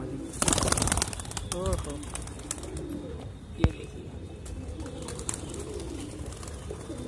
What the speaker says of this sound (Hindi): ये है सहारनपुरी कबूतर